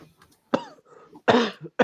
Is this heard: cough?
yes